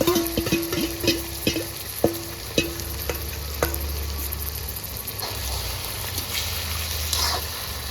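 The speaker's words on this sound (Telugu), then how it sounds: "ఇప్పుడు చూడండి మంచిగా ఫ్రై అయింది కదా, మ్యారినేట్ చేసుకున్న చికెన్ వేసుకుందాం" Marinated chicken fries in a pan for chicken fry piece biryani, with a steady close sizzle and bubbling oil under several sharp spatula clinks early on, then continuous frying.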